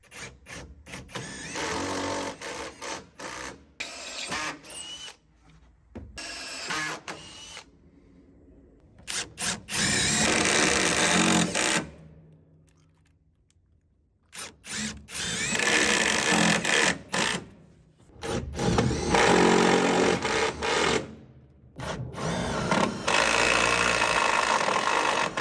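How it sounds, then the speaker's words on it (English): A drill with a 3/16 inch bit bores into a trailer, followed by an impact driver sending in screws, loud close bursts of whirring and rattling hammering separated by brief silent pauses. "drill this with our 3/16 inch drill bit, and then send in our screws with the impact driver"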